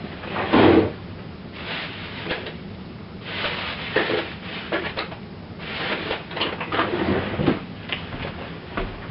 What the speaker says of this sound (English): while I get a fork out of my drawer